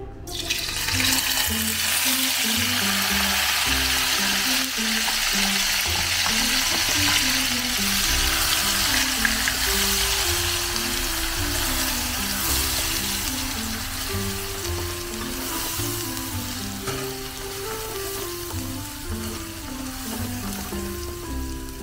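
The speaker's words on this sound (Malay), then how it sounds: "Kita goreng dulu." Blended turmeric and chili ingredients for chicken sizzle and crackle loudly in a hot pan, a dense continuous fry with light stirring throughout and music playing underneath.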